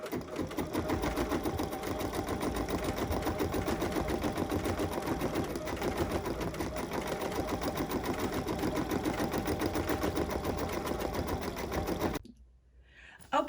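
An embroidery sewing machine stitches a flower design with a fast, steady mechanical chatter that runs evenly and loudly for about twelve seconds, then stops abruptly, leaving near silence.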